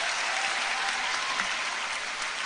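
A crowd at a roadside food festival claps steadily and densely, a continuous wash of applause with no voices over it.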